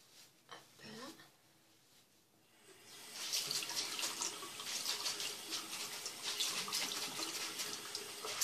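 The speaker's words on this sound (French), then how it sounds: "J'espère que le bruit de l'eau ne vous dérangera pas trop." Tap water running into a sink while the face is rinsed, starting faint, then a strong steady splashing rush that continues to the end, with a voice speaking quietly early on.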